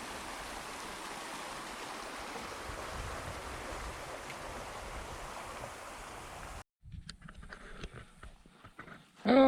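Runoff rainwater rushing from the hills through a narrow channel, a steady, fairly faint wash of flowing water that breaks off near the end before scattered handling noises and a brief loud bump.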